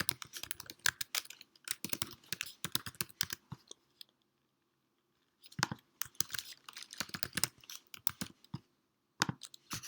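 Computer keyboard typing in quick, close, irregular bursts of clicky keystrokes, with a silent pause midway and a short final burst, no voices.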